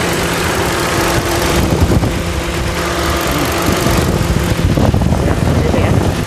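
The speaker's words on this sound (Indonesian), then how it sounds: "dalam kondisi sudah menyala ya mesinnya ya" Engine of a 2014 Mitsubishi Mirage Exceed idling, a steady close-up hum and rattle that continues unbroken throughout with no voices.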